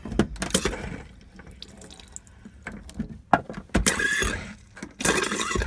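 A tap runs in bursts in a 2000 Peugeot Autosleeper Polensa motorhome shower, with clatter and knocks in between, and water gushes strongly near the end.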